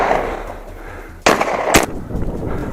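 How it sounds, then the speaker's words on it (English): Two sharp, loud hunters' gunshots at a wild boar in snow crack out about half a second apart over a low background hiss, with no one speaking. "gunshots rang out in rapid succession"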